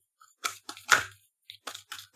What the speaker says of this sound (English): Ooh, loud shuffle for you, my friends.